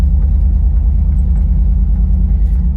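Steady low engine rumble from an LT4 V8 in a Jeep Wagoneer cruising docile on the road, a continuous close drone with no talk over it.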